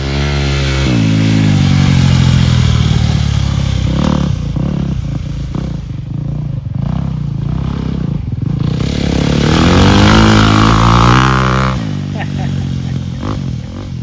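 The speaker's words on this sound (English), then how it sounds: "We're ripping Reese's CRF 2023" A 2023 Honda CRF dirt bike, ridden by a first-time rider, revs and bogs in repeated surges at moderate distance, its engine note rising and falling while excited voices talk and laugh over it.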